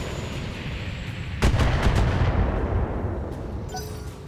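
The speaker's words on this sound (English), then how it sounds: "I'm gonna actually take the shot with the particle cannon." A particle cannon fires in the mech combat video game BattleTech, a heavy booming blast that hits abruptly and rumbles loudly before slowly fading, with no talking.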